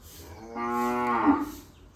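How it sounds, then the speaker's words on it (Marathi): A village cow moos once in the morning, a single drawn-out, close and fairly loud low call lasting over a second before fading, with quiet surroundings around it. "आवाज देते गाई सकाळी सकाळी."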